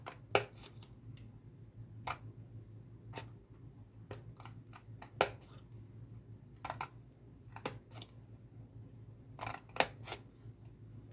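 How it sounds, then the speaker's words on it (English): Kitchen meat scissors snipping through card to make a small weaving loom, a series of crisp, sharp clicks and cuts at an irregular pace, close and fairly quiet. "we're going to cut up to our spare bit of card that we've stuck on, up to our folded bit of card"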